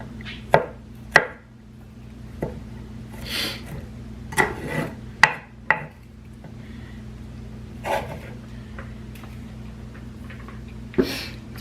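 A knife chops vegetables for salsa verde on a board in a home kitchen, giving several sharp, isolated close knocks spread irregularly over quiet room tone, with no talking.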